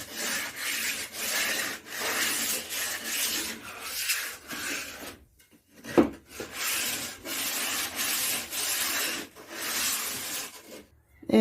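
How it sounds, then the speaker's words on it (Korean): Wood being sanded by hand with 150-grit sandpaper, a steady rasping rub in long back-and-forth strokes, close and fairly loud, with one brief pause midway. "150방 정도를 서로 비벼서 잘 문질른 다음에 살짝 사포할게요"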